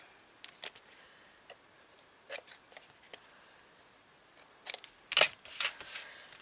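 Scissors snip origami paper in a few sharp, quiet cuts spread across several seconds, with a cluster of crisper snips near the end and no talking.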